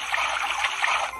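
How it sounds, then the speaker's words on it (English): Water trickles and splashes softly into a small toy fruit blender, a faint, close, steady pour lasting about a second. "Pour some water."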